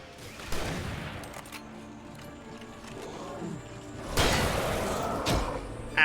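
Shotgun blasts in the Alan Wake video game, a couple of loud broadband bursts spaced a few seconds apart over a dim game backdrop, with no voices.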